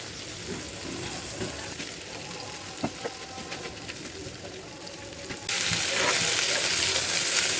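Prawn legs sautéed in a pan for a shrimp and new potato curry: continuous sizzling with scattered spatula taps, the frying suddenly swelling louder and brighter toward the end.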